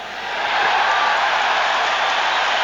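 A rugby stadium crowd roars and cheers, swelling quickly into a loud, sustained wash of noise that holds steady at a distance.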